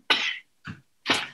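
Three sharp coughs come close and loud, the middle one weaker, each separated by a brief silence.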